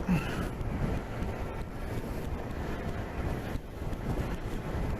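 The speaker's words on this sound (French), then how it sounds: "Aujourd'hui, il y a beaucoup de vent." Steady wind buffets the microphone with a low, rumbling roar that fluctuates in gusts, loud and continuous throughout.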